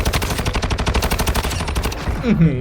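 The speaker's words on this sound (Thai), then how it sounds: "ฝั่งนู้นยิงกันอยู่" Rapid automatic gunfire in Call of Duty: Warzone Mobile rattles continuously in quick even bursts, loud and close, ending with a short rising electronic tone.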